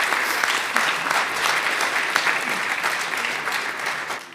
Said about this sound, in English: Perhaps we can give him an applause already.